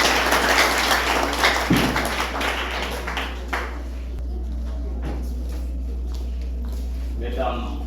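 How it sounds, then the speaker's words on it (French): Audience applause at a motorcycle association event in Limonade, a burst of clapping from a crowd that fades after a few seconds into a low background hum, with speech present. "Si une voix d'applaudissement, mesdames et messieurs."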